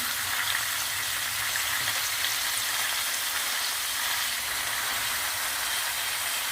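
Steady, dense sizzling of coarsely chopped chard stems frying in a hot pan, a continuous crackling hiss with no pauses, close by and fairly loud.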